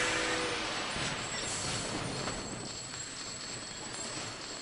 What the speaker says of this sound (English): Okay, so that train's up there.